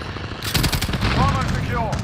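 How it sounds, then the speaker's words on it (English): Rapid automatic gunfire rattles in bursts during a Call of Duty Modern Warfare match, loud and close, with a voice calling out over the shots. "We're taking some fire."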